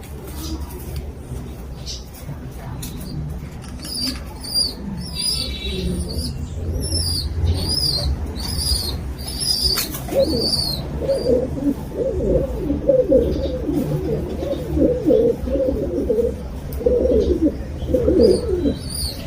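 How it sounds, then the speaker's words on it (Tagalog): Pigeons coo in a breeding loft, a steady run of soft repeated calls with higher chirps and rustling throughout, growing busier and closer in the second half. "Si Whitetail. Yung ating dambuhalang kalapate"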